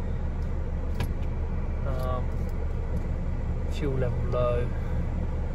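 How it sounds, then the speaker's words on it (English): A white 2018 Ford Transit 2.0L diesel manual van with 127K miles idles steadily and evenly in a low, constant rumble, with a voice speaking briefly over it. "No warning lights, idles perfectly, there's no misfires"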